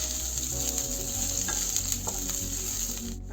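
Vegetables sauté in a hot pan for masala fried idli, giving a loud, steady sizzle with occasional stirring scrapes throughout, close up and alone with no talking.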